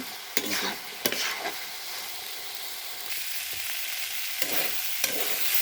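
Potatoes frying in a home kitchen pan, a steady sizzle broken by a few sharp scrapes as they are stirred, close and alone without talk.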